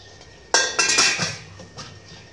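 A metal lid clatters onto a cooking pot of steaming dhokla, a sharp clanking hit followed by a few quick rattles and a fading ring, alone and close.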